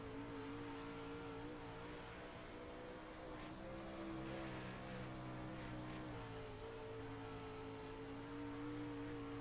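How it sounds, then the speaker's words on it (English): A dirt late model race car in a racing video game at Knoxville holds a steady, near wide-open engine drone, with brief small dips in pitch, under a faint hiss. "You hear pretty much almost wide open, a little bit of throttle action with corner entry and then at the apex."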